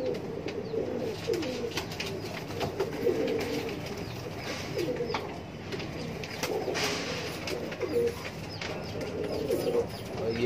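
Single-tail high-flyer pigeons coo in a loft, soft repeated low coos overlapping at a steady close level with no talk.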